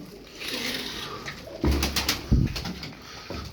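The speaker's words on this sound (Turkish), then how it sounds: "Abi 10 tane kuş var burada." Pigeons coo softly in a loft, a few low throaty calls heard close up over faint background noise. Two louder bursts near the end could be wing flaps or handling.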